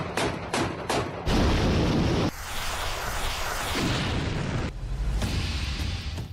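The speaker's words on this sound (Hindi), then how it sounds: "यूक्रेन के खेरसान इलाके में कैसे यूक्रेनी सैनिकों के हमले में रूसी सेना की एक गाड़ी धमाके के बाद जलकर तबाह हो गई" A Russian army vehicle in the Kherson war zone is hit by a Ukrainian attack, with sharp bangs and a heavy booming blast followed by sustained roaring rumble and crackle, loud and close, with no voices.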